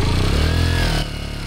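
A motorcycle pulling away on a muddy road in Vietnam, its engine loud and close with a steady throbbing rev that drops slightly near the end.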